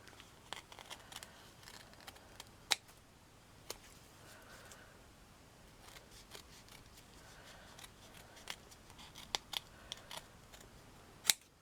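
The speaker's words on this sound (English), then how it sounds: "Cut the felt." Scissors cut felt for a miniature corset with quiet, scattered snips and clicks of the blades, close and faint, spread across the whole stretch.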